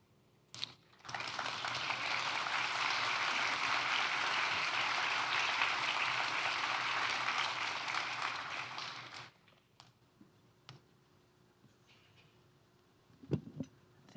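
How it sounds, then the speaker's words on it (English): Audience applause at a business summit keynote, a sustained dense burst of clapping lasting about eight seconds before cutting off, followed by a quiet room with a few faint scattered sounds. "One more round of applause while I graciously go downstairs"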